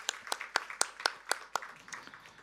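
A church congregation claps steadily during a Sunday worship service, a run of distinct, evenly spaced claps that thin out toward the end.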